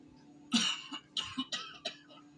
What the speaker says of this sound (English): a loud, raspy cough from behind me.